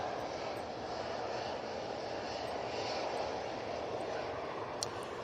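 An Airbus A380 airliner arrives at Manchester Airport in stormy weather, its engines a broad, steady roar with wind noise.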